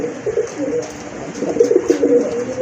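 A male domestic pigeon coos in a steady series of low, soft, rolling calls, close and fairly loud, with no talk over it.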